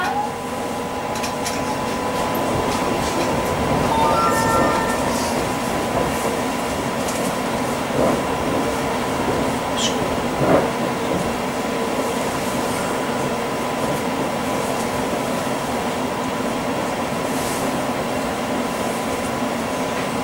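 A Crossrail Class 345 electric train runs between Liverpool Street and Shenfield, heard from inside as a steady loud rumble and hum with faint rail clicks and occasional squeaks, no speech over it.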